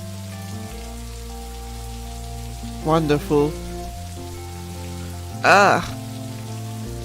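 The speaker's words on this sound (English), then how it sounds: "Ooh, rain." Steady rain patters down in the video game Necrobarista, a soft continuous hiss under a sustained musical drone, with a voice briefly speaking over it twice.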